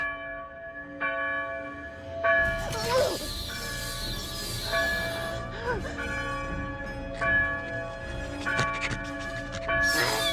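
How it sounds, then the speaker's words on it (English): A church-style bell rings repeatedly with long, sustained tones in an animated small-town scene, joined by shouting voices, clanging and crashing noises over a steady ringing backdrop. "Ring the bell!"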